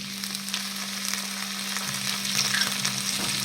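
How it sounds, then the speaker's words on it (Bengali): Chopped onion and tomato fry in a pan for ghugni, giving a steady sizzle with light stirring scrapes over a constant low hum. "পেঁয়াজ কুচি দিয়ে দেবো দিয়ে ভালো করে নাড়াচাড়া করে নেব এবার টমেটো কুচি দিয়ে দেবো"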